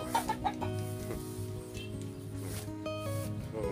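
Chickens on a small farm during dry weather: a few close, soft clucks and throaty murmurs repeating irregularly, with other fowl faintly in the background and no voices.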